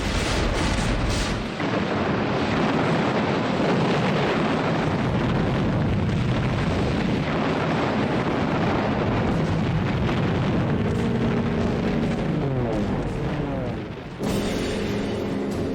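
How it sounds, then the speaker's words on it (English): Air and naval bombardment explosions from WWII archival film, heard as a continuous loud rumbling roar of blasts and booms with wind-like noise throughout, growing denser near the end. "They were supported by a constant air and naval bombardment from the invasion fleet."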